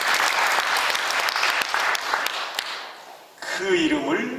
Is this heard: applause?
yes